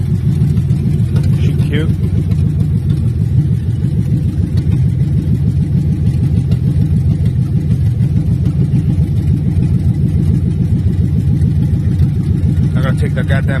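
A 1968 Chevy Chevelle Malibu with a swapped-in V8 idles loudly and steadily up close, its low rumbling pulse continuous throughout while someone speaks briefly over it.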